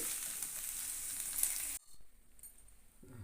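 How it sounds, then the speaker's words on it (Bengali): Potatoes frying red in soybean-free pan oil sizzle loudly and steadily for nearly two seconds, then the hiss cuts off abruptly, leaving quieter clatter and faint low noises. "আলুগুলোকেও লাল করে ভাজতে হবে"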